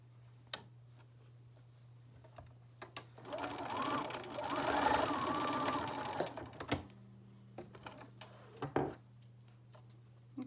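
Sewing machine running a quick basting stitch across face mask pleats, a close steady whirring burst of several seconds framed by soft clicks and handling taps, without speech.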